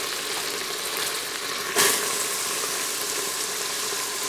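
Onions sautéing in melted butter in an Instant Pot, giving a steady soft sizzle with a brief louder hiss near the middle as the onions hit the hot butter.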